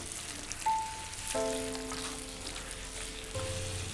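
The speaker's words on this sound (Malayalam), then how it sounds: "തക്കാളി ചേർത്തതിന് ശേഷം വീണ്ടും ഒന്ന് വഴറ്റി കൊടുക്കാം." Chicken pieces with tomato sauté in a pan for a Kerala chicken curry, giving a soft steady sizzle and frying crackle, quiet and close, with faint tonal kitchen noises over it and no talking.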